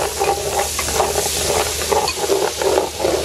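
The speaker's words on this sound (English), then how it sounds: "since the oil is nice and hot, we're gonna go in with our curry paste" Curry paste for a Guyanese goat curry sizzles and crackles in hot oil in a pot, a steady close frying hiss with soft scraping stir strokes pulsing through it.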